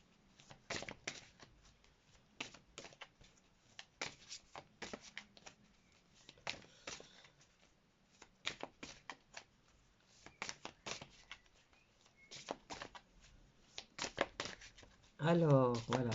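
Tarot cards being shuffled for a reading, repeated crisp riffling and slapping bursts at close range, quiet overall, with a brief louder sound near the end.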